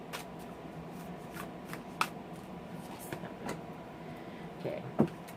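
A deck of oracle cards is shuffled close by in soft, rapid riffling and sliding bursts, with a few sharper taps as the cards knock together, quiet overall and without talk.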